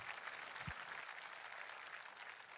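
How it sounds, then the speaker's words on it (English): A church congregation at a Sunday testimony service claps together, a dense, even wash of clapping sustained throughout at moderate distance. "Let's clap for Jesus."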